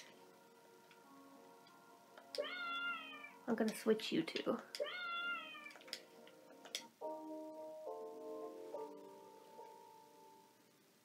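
Cartoon cat meows from the Sudocats puzzle game ring out in several drawn, pitched calls, mixed with a steady ticking clock and a loud burst of game noise, while someone talks over it.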